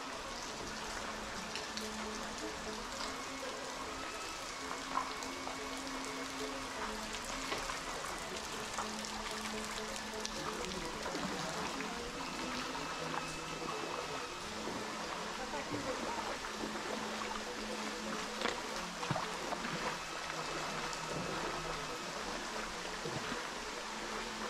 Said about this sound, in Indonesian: jadi begitulah situasi dan suasana di kawasan air terjun populer